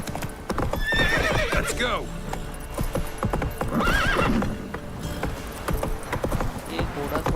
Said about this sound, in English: ये घोड़ा थोड़ा डर हो गया, हर जगह रुक अटक